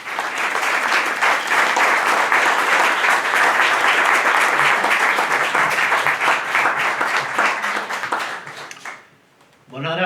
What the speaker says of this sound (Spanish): le pido un aplauso para todos ellos que han colaborado en este libro